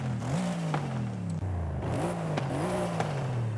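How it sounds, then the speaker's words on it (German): A Brabus car engine in Forza Horizon 5 revs up and down repeatedly, the exhaust note rising in pitch with each throttle blip, steady mechanical whir underneath. "wie klingt denn die Abgasanlage?"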